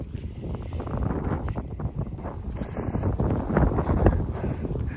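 Gusty wind buffets the microphone outdoors at a commercial bee yard on a sunny, warm day, a steady broadband rumble that swells and eases continuously for several seconds with no clear talk.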